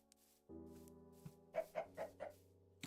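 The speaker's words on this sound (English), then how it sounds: "Is it a chicken moving?" A Minecraft chicken clucks in four quick, clear bursts over a steady game background hum, nearby and fairly quiet.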